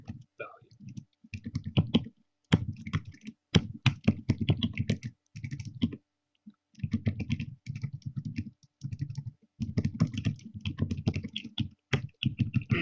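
Code is typed on a computer keyboard in bursts of close, crisp key clicks, with short pauses between runs of keystrokes. A voice can be heard faintly in the background.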